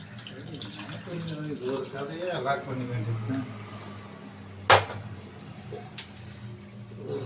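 Water runs steadily from an opened kitchen tap during cooking, a soft continuous hiss beneath a person's ongoing talk, with a brief sharp clatter partway through.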